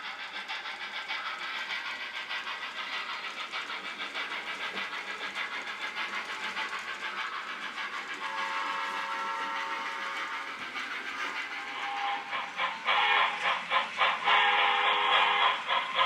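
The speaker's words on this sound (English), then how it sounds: "Stock train has just passed" An HO scale model stock train rolls past on a layout, a steady faint rattling hum of wheels on track that swells toward the end, with a brief whistle-like tone midway.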